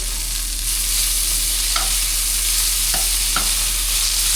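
Seasoned lamb chops sizzle loudly and continuously in a hot pan while being flipped, a dense, close hiss of frying punctuated by a few brief metallic taps and scrapes.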